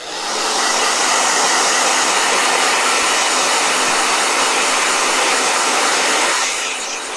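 A hair blow dryer roars in a steady, loud, close whoosh of broadband air that holds constant for about six seconds before cutting off.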